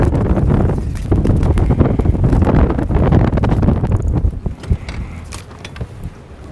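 Steady wind roaring across an open microphone on a fishing boat, a dense continuous rush that eases slightly toward the end, with no voices.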